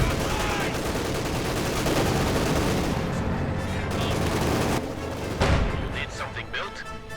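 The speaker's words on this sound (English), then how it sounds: "Panzerkanone fires at the T-34." Tank cannon fire from a Panzer IV shooting at a T-34 in the strategy game Company of Heroes 2, dense overlapping gunfire and booms throughout, with a sharp loud blast near the five-second mark amid continuous battle noise and commentary speech.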